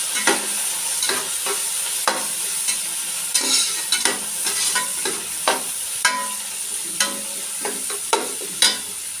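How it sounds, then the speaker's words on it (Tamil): Onions sauté in oil for vegetable biryani, a continuous close sizzle punctuated by regular sharp scrapes and taps of a spoon as they are stirred. "வெங்காயத்தை கூட வதங்கணும்."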